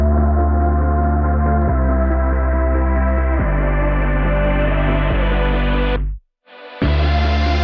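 A future bass build-up with sustained synth chords and a pulsing, warbling Endless Smile plugin effect, rising steadily before a sudden brief dropout and return.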